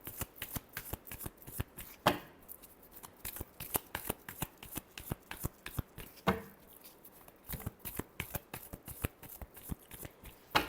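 Tarot cards are shuffled close up in a quick, dense run of crisp riffling slaps and flicks, with two louder bursts where the deck is bridged, quiet and without talk.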